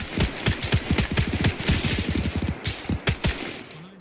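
Rapid bursts of suppressing gunfire from WWII weapons in an Arma 3 firefight, a dense run of close, loud shots hammering almost continuously for several seconds before a few last cracks.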